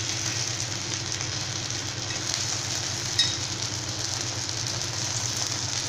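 Tomato paniyaram frying in a pan, giving a steady, even sizzle of oil throughout with one brief tap midway.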